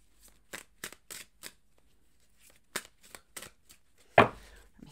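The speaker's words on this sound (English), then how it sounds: "These cards are really, really hard to shuffle because the stock on them is so thick." Thick-stock tarot cards are shuffled in short papery riffles and flutters, a few quick bursts separated by pauses, ending in one louder, sharper riffle, with no talking.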